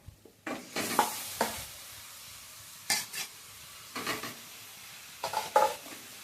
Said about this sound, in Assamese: এইখিনি মই ভালদৰে ভাজি ল'ম।